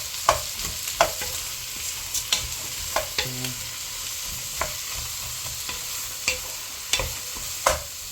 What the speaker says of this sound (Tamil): இப்போ பாருங்க மக்களே, வெங்காயம் நல்லா பொன்னிறமாக வதங்கட்டக்கும்.